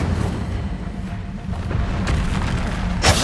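A fiery Incendio spell blast in Hogwarts Legacy on PS5, heard as a deep booming burst rolling over steady low rumble, with a sharper crackling pop near the end.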